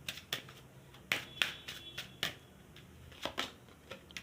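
Tarot cards slide and snap crisply as two are drawn from a shuffled deck, a quick run of close, dry flicks and taps with no voices over them.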